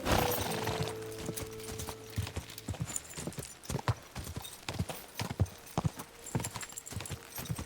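Horse hooves galloping during a race in the medieval video game Kingdom Come: Deliverance II, a steady rapid clip-clop of close, loud hoofbeats running throughout, with a brief whinny-like tone near the start.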